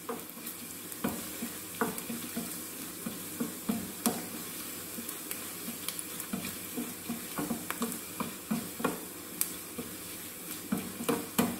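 Onion and grated coconut sautéing in a pan with dried red chillies and curry leaves for a rambutan curry, a low steady sizzle broken by repeated scraping and knocking strokes of a spoon stirring.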